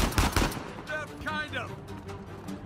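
Pistol gunfire in the Uncharted 4 video game opens with a few sharp, loud shots in quick succession, then trails into game sound with a brief tonal effect.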